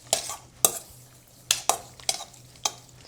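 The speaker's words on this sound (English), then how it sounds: "2 teaspoons of sugar, 2 teaspoons of good aged balsamic vinegar. Let's give that a good stir." A spoon stirs sugar and good aged balsamic vinegar together in a bowl, giving about six distinct, fairly close scrapes and clinks spaced unevenly over a few seconds against quiet kitchen background.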